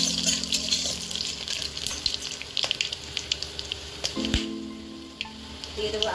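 Bay leaves, dried red chillies and whole spices crackle and sizzle steadily in hot oil in a pan, a close, continuous frying hiss with small pops and a few stirring knocks.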